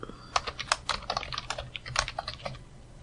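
Fast typing of Python code on a computer keyboard, with dense, close key clicks in quick irregular bursts and no talking.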